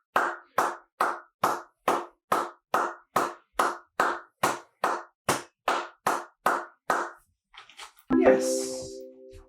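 Hands clap about sixteen times in a steady, even rhythm, close and crisp, during a dog relaxation training session; a few soft sounds and a brief voiced utterance follow at the end.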